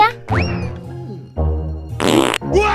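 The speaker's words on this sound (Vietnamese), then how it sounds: "Ai xì hơi vậy?" Cartoon fart sounds from an animated comedy scene: a few loud, close, rubbery blasts of varying length, with the last two coming sharp and buzzy.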